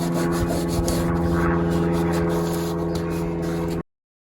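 Old seal residue rubbed off a Land Rover Defender bulkhead, a close, steady scrubbing and rasping over a low hum that stops abruptly near the end.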